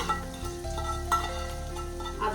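Fried prawn masala powder and its oil are stirred into prawn biryani in a pan, giving a continuous sizzle with soft scraping stir strokes, moderately loud and without talk.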